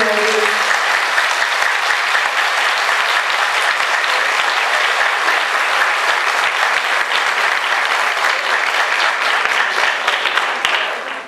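Wedding guests at a civil marriage ceremony break into long, loud, continuous applause for the couple, a dense even wash of clapping that tapers slightly at the very end; a brief voice is heard at the start.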